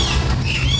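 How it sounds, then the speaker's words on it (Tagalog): Birds squawking in an aviary at the Ninoy Aquino Parks and Wildlife Center, a park with many kinds of birds; a brief burst of overlapping high calls over a steady background murmur. "dinig na dinig mo na yung mga huni ng mga ibon"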